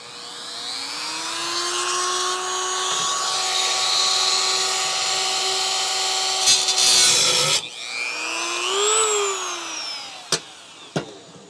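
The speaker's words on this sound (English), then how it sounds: "I'm just gonna use a Dremel tool here real quick." A Dremel rotary tool cuts a part for a DIY magnetic microphone clip, a steady high whine that holds for several seconds, then cuts out, restarts with a rising and falling pitch, and ends in two sharp clicks.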